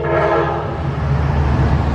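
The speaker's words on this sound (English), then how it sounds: "Oh wow, we're gonna get to see the train." An Amtrak passenger train rumbles past nearby, heard from a Tesla, its horn sounding loud and sustained over the heavy low roar of the cars for the whole short stretch.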